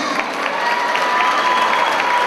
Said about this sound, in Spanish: El aplauso para Ricky